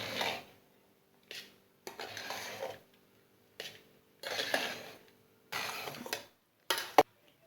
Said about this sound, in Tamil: சாதத்து கூட இந்த புளிக்கரைசலை சேர்த்து நம்ம மிக்ஸ் பண்ணிக்கலாம்